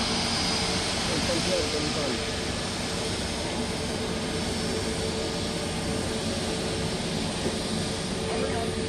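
Thai AirAsia jet airliner at Gautam Buddha Airport in Bhairahawa, a loud, steady broadband engine roar that holds constant throughout, with a voice talking over it.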